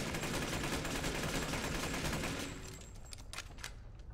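Rapid gunfire from a Magnum with infinite ammo in the video game Resident Evil Village, loud and continuous for over two seconds before dropping to scattered, quieter shots and game effects.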